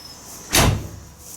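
The side door of a JCB Teleskid skid loader cab opens with a single short, broadband clunk and rattle standing out against a quiet background hum.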